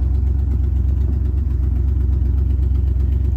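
A 1975 Lincoln Continental's engine runs at a steady low idle, close and constant, with a faint rhythmic knock-like pulse and no voices.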